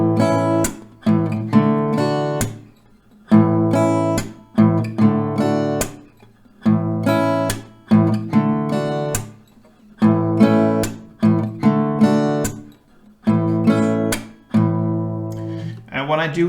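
An acoustic guitar strummed in a repeating bass-note, chord and body-clap pattern, with sharp percussive slaps and short pauses between rounds.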